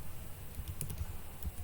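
Quiet, steady typing on a computer keyboard while a filename and its HTML extension are entered: soft, close key clicks in an irregular run over a low room hum, with no voices.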